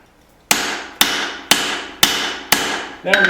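Hammer striking hot steel on an anvil while a hatchet is forged and cross peen marks are smoothed, five sharp ringing blows at an even half-second rhythm, close and loud.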